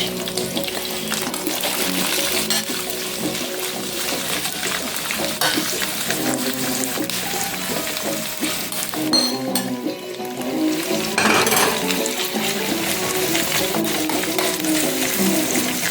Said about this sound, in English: Now I'm about to add the carrots and the celery.